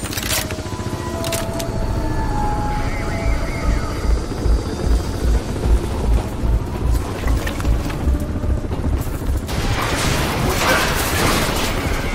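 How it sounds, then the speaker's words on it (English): An attack helicopter in the video game Crysis 3 thrums loudly with a rapid, rhythmic rotor beat amid mechanical battle noise, ending in a burst of heavier, broadband blast. "And they've got attack helicopters in support."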